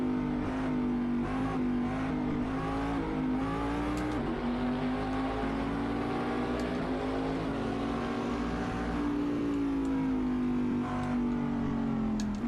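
Daytona Prototype race car engines in the Assetto Corsa racing game drone loudly and steadily, the pitch swelling and easing slightly as the car holds speed with another car close behind, with no talking.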